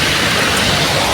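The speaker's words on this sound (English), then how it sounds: "But hope the rain will subside." Steady, loud rain falls on a Thursday evening, a dense unbroken hiss filling the whole moment with no voices.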